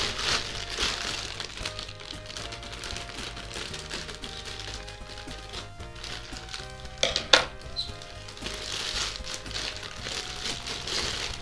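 Plastic packaging around a Dragon Ball Z Goku Kaioken Ichibansho figure crinkles and rustles steadily as it is cut open, with a couple of sharper snaps partway through and no talking.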